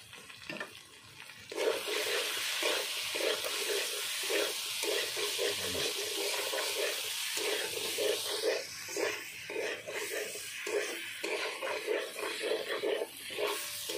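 Posto paneer with fried potatoes sautés in a pan with a steady mid-level sizzle, overlaid by a rhythmic scraping of a spatula stirring back and forth, close and continuous.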